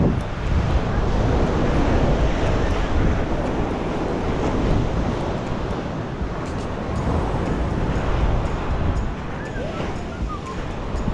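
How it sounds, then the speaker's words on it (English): Surf rolls in continuously at Bingin Beach in Bali, a loud, steady wash of waves mixed with wind buffeting the microphone, with no breaks. "so this is the beach, guys"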